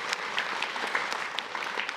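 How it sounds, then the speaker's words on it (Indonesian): An audience claps together during a religious talk show, a brief, steady burst of moderate applause with distinct individual hand claps. "Tepuk tangan loh."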